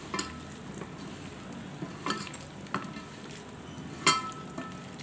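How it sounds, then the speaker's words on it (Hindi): Andhra mango pickle pieces tossed with oil and masala in a bowl, giving soft wet squelching stirs with a few light scraping clinks spaced across the span, quiet and close, with no talking. "थोड़ा तेल और डालेंगे, इसको मिलाएंगे अच्छी तरह से।"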